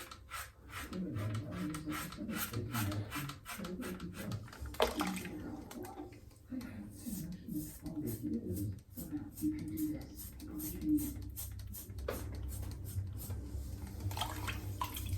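A faucet runs into a bathroom sink while a shaving razor is rinsed, giving a steady low splashing flow with intermittent clinks and rubbing, quiet and close throughout.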